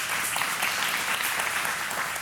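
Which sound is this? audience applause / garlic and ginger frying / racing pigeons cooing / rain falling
audience applause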